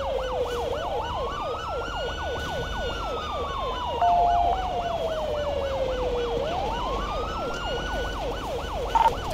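An in-game ambulance siren in GTA 5 rises and falls loud and close. A rapid yelp pattern runs alongside slower wailing sweeps, with a few short beeps mixed in and no talk.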